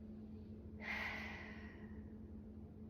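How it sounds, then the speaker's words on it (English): A single deep inhaling breath taken during a seated stretching exercise, soft and close, rising sharply and then tapering away over a couple of seconds, with no talk. "Take a deep breath."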